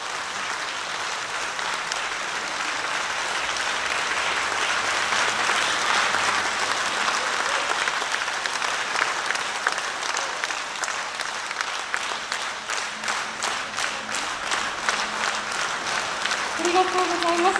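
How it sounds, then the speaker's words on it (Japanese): Loud, sustained applause from a concert audience after a Japan Ground Self-Defense Force Middle Army Band performance with a singer in Kanazawa, Ishikawa, settling into steady, rhythmic clapping toward the end. "たくさんの拍手をいただきまして、本当に温かい拍手をありがとうございます。"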